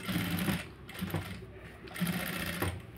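A sewing machine stitches a sleeve close up in two quick whirring runs, with a short pause between them and no voices.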